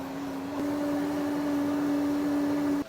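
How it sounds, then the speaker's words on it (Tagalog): A blender purees a coconut milk sauce, giving a steady, loud motor whine that holds an even pitch throughout and then cuts off abruptly at the end. "and then we're gonna blender it para mas lumasa yung ating sauce"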